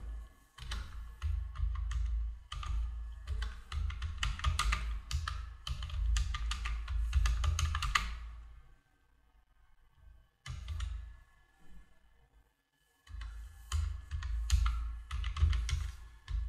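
Fast clicking of a computer keyboard while someone fills in an income tax return form, in two long bursts of steady typing separated by brief pauses, close and fairly quiet.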